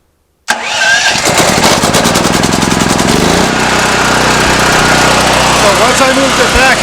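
Firman tri-fuel generator engine cranking to life after near silence, then running loud and steady with a dense mechanical roar and a constant low drone, close by.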